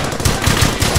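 Machine-gun fire in the video game Brothers in Arms: Hell's Highway: a rapid, loud burst of shots in quick succession, close and continuous for the full second.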